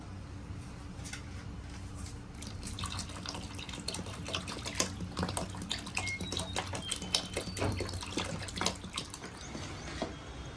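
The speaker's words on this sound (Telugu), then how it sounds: "ఇప్పుడైతే కొన్ని వాటర్ పోసుకుంటున్నాను నేను." Water being poured into thick sambar in a home kitchen, a steady running, splashing pour with scattered drips, close and moderately loud, no talk.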